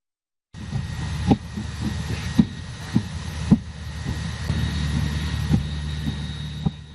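Engines of a Hercules C-130B military transport aircraft of the Indonesian Air Force drone loudly and steadily, with a deep rumble broken by repeated sharp thumps and clicks.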